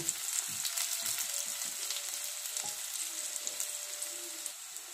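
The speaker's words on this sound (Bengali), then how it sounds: "কাঁকরোলের থেকে তুলে নেওয়া পুরগুলো আমি এর মধ্যে ভেজে নেব" Stuffing scooped from spiny gourds fries with onions in a pan over low flame, a steady close sizzle with soft crackles and occasional stirring clicks, no talk.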